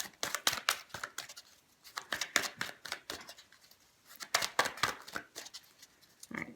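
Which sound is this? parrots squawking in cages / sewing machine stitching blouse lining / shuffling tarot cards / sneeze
shuffling tarot cards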